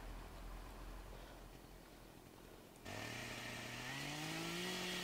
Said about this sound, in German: jetzt ist die Motorsäge gleich leer